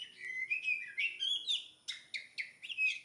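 A female oriental magpie-robin (kacer) calls from a tree in front of a house, a series of bright whistled chirps and warbles in quick bursts, clear and fairly close against a quiet background.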